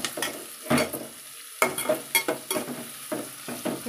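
Ingredients for puri curry fry in a pan with a gentle sizzle, broken by repeated scraping stirs of a spoon against the pan, close and quiet.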